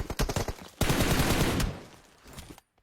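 Gunfire sprays in the mobile game PUBG Mobile during an esports playoff match: a few quick single shots, then a dense sustained automatic burst lasting about a second before fading out.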